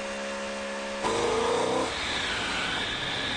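A 2011 BMW M3 engine runs hard on a dynamometer test rig, a steady close mechanical roar that jumps louder after a second, sweeps up in pitch, then settles into a sustained rushing drone.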